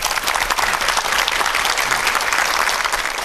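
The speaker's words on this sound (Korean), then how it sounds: "힘찬 박수 부탁드립니다." Loud, dense audience applause opens a televised lecture on sea cities and maritime civilization. The clapping is close and even from start to finish, with no speech.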